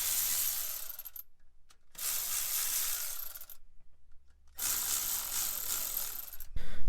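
A ratchet works loose 10mm bolts on the shifter of an FD Mazda RX-7, with three bursts of fast metallic clicking separated by short silences, close and fairly loud.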